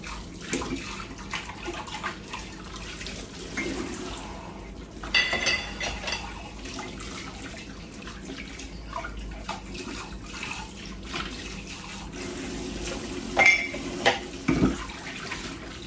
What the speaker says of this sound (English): At least the water is warm, so that makes it even easier to wash.